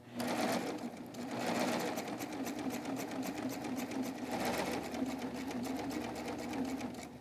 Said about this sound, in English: we're going to put our foot down and we're going to start stitching